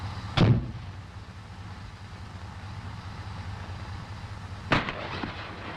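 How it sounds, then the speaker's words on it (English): A training grenade bursts as a single sharp blast on a range near an M551 Sheridan armored reconnaissance vehicle, followed by a second similar thump about four seconds later over steady low engine rumble. "Grenade."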